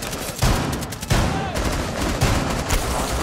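Gunfire in the video game Rainbow Six Siege, rapid close bursts of automatic shots cracking out several times in quick succession, loud against a noisy background with little talk.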